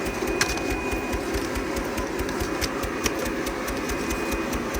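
Focus Cobra single-pass corrugated cardboard printer running steadily, a continuous mechanical hum with faint rhythmic ticking and a thin high whine, close and even throughout with no talk.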